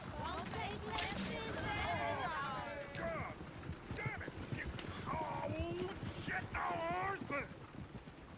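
Horse hooves clip-clop in a Red Dead Redemption 2 game scene, with occasional whinnies under steady talk by characters and background game sounds.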